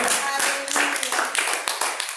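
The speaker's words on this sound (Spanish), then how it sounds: "Damos un aplauso al Rey de la Gloria." Church congregation clapping in praise, a close, uneven patter of hands with distinct individual claps, with voices sounding over it.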